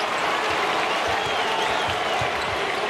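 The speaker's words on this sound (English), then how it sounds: "And the crowd all abuzz" A packed Madison Square Garden basketball crowd applauds and buzzes continuously during a Lakers versus Knicks game, a dense steady roar of clapping with no gaps.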